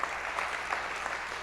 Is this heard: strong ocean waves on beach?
no